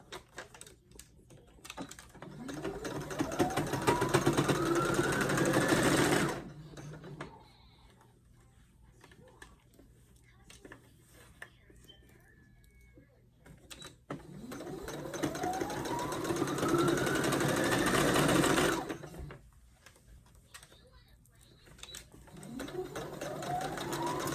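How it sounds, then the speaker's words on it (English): A sewing machine running straight stitches along a bodysuit seam, a fast whirring drone in two long runs with a quiet pause between them and a third run starting at the end. "continue with my straight stitch. Sewing it twice because I think it kind of came unfolded."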